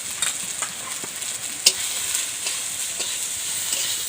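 Soybean chunks frying in a pan with a little oil give a steady, close sizzle, with stirring scrapes and one sharper clink partway through, no voices.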